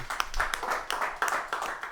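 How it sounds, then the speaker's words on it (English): Light, uneven audience clapping at a live gathering, a handful of hands striking irregularly, close and moderate, briefly alone without talk. "She's amazing. Can you guys clap for her too?"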